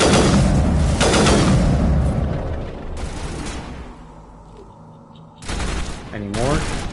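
Gunfire in the video game Mass Effect: loud, close bursts of rapid shots in several volleys, with quieter gaps between them and a voice speaking.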